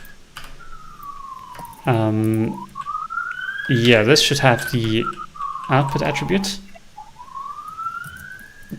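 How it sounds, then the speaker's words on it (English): A wailing siren rises and falls in the distance, continuing beneath a man's speech and other voices. "There's some sirens I hear in the background."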